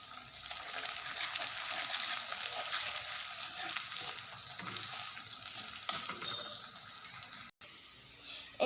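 Chicken gravy sizzles and fries in a pan while being stirred, a continuous bright crackle with soft scraping, steady and close until a short break near the end.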